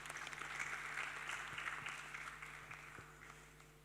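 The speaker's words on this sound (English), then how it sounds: "Let's give him a round of applause as he makes his way." Audience applause at the All Africa Pension Summit 2025 as the NSSF Board Chair walks up, a steady moderate wash of clapping filling the hall and slowly tapering, with a low steady hum underneath.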